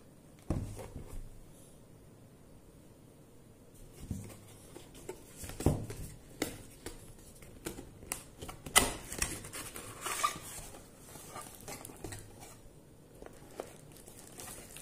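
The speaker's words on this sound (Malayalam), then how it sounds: "നമുക്കിതൊന്ന് അൺബോക്സ് ചെയ്ത് നോക്കാം." An MXQ Pro Android TV box being unboxed produces scattered close-up rustles, crinkles and sharp plastic clicks from its packaging, in irregular bursts with quiet gaps between.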